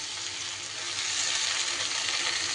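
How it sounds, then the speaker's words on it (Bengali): Spinach hitting a hot pan, a soft, steady hiss of sizzling that holds evenly at moderate level, heard alone without talk. "এইবার দিয়ে দেব শাকগুলো।"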